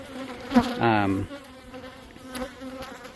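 Honeybees buzz around an insulated hive close by, a soft continuous drone with one louder buzzing pass early on, no voices.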